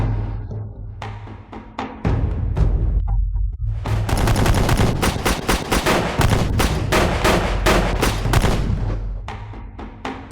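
Sustained rapid automatic gunfire from a film scene, loud dense bursts of shots after a short quiet lead-in and a few single cracks, continuing for several seconds before tapering off.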